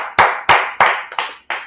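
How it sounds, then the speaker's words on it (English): Five sharp claps in a slow, evenly spaced series, loud and close, each with a short ringing tail in a room, no voices. "Let's clap it up for that."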